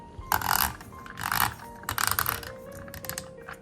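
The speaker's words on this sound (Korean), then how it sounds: "다음에 조절 나사를 재조립합니다. 이때 나사가 저항감이 들 정도로 조여줍니다." The adjustment screw of a KINGrinder P2 hand coffee grinder being threaded back on and tightened, a series of short dry clicking and ratcheting bursts in uneven clusters, close and clear.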